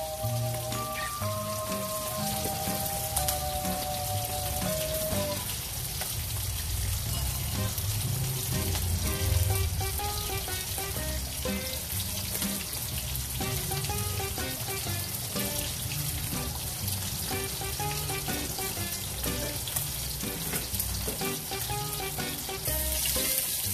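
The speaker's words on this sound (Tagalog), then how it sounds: "ngayon isusunod na natin ang unang gata" Coconut milk being poured into mackerel tuna simmering in a pan gives a steady, close sizzle and bubbling that runs unbroken throughout, with no talking.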